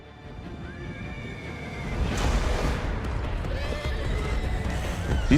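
CGI horses neighing and galloping: whinnies rise over a dense, rumbling rush of hooves and dust, growing louder midway and staying close and busy, with no talking.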